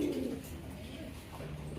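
Pigeons at a seller's stall, a low soft cooing up close over a faint background murmur, brief and continuous.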